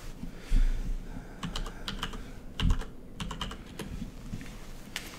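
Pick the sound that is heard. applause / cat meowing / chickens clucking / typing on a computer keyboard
typing on a computer keyboard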